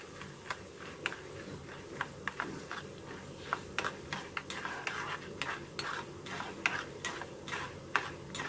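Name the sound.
stirring frying peanuts in a pan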